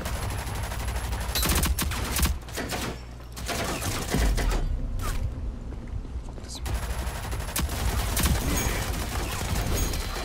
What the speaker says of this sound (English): Everybody shooting me